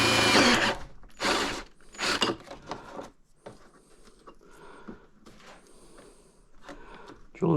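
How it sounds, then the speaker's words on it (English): A power drill bores into a 3D-printed plastic RC boat hull in several short, loud bursts, followed by quieter clicks and handling of parts. "Drilling this plastic stuff is weird."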